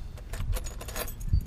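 Metal house keys, some brass skeleton keys among them, jangle and clink continuously while being sorted by hand from an antique box, close and fairly loud, with a couple of dull knocks.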